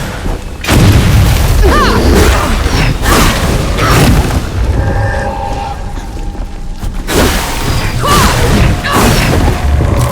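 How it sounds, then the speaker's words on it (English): Barrels blowing up in the video game Flintlock: The Siege of Dawn, heard as loud, heavy booms with crashing debris and rumbling mechanical noise that continue through the scene, with a second burst later on. "But that explosion worries me."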